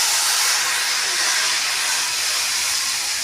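Mustard paste for raw rui fish bhapa sizzles steadily in a hot pan, a close, loud, even hiss that holds without a break.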